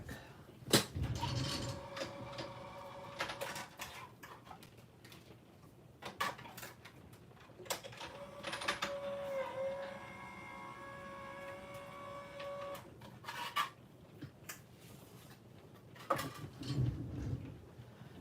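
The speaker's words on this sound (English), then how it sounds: "And I'm going to run that through my die machine real quick." A die cutting machine feeds a gingerbread-themed Christmas card through its rollers, giving a steady mechanical whir with tonal hum across most of the stretch, broken by a few clunks and shuffles at the start and end.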